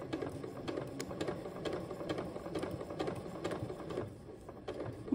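A sewing machine runs steadily, its rapid rhythmic clatter stitching a shoulder dart through fabric up close, continuous with slight variations in speed and no voices.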